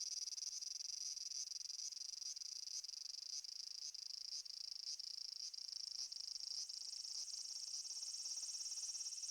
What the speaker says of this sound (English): The cicadas are singing loudly, which is normal for this time of year.